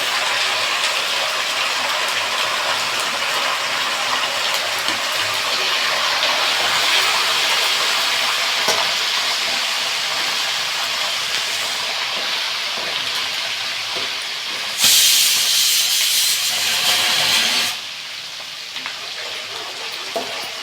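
Curry leaves and dried red chilies sizzle steadily in hot oil in a pan while tamarind rice is being made, a dense, continuous frying hiss that flares louder and brighter for a few seconds near the end.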